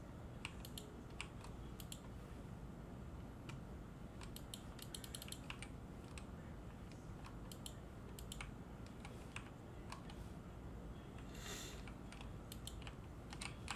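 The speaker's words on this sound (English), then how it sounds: "Why does everything sound like I'm typing on a keyboard?" Soft clicking taps like keyboard typing come in quick irregular clusters through The Stanley Parable video game, faint over a steady hiss with no voices.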